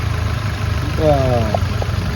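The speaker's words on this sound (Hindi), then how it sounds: "इंजन से इजीली स्टार्ट हो जाना चाहिए" A used car engine idles with a steady low rumble and faint knocking vibration, while someone talks over it.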